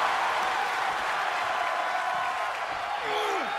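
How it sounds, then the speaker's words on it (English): Loud, dense wrestling arena crowd cheering and roaring without a break, a steady wall of noise with a rising whistle-like tone near the end. "The sound of this crowd is deafening, and he's asking for more."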